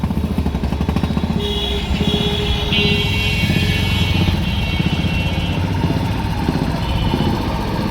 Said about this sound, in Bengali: মনে হয় এই গাড়িটা উঠতে পারতেছে না সমস্যা হইতেছে